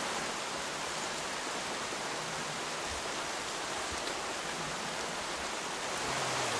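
Steady rain falls in a rural hill village, a dense, even hiss of drops that holds at the same level throughout with no voices over it.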